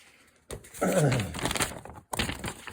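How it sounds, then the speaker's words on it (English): A Cold Steel Range Boss knife slices through a sheet of paper in a close, crisp rasping cut lasting about a second and a half, followed by a brief rustle of handled paper. "I was able to cut the paper"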